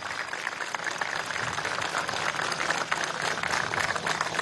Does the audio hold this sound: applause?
yes